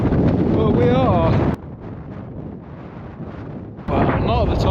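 Gusty wind on a mountain pass buffets the microphone in loud roaring bursts at the start and end, easing to a softer rushing in between.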